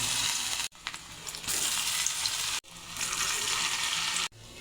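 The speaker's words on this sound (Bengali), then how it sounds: "তেল গরম হয়ে গেছে, বড়াগুলো দিয়ে দেব।" Radish fritters fry in hot oil, a dense, steady sizzle heard up close that cuts out abruptly twice and then resumes, with no one speaking.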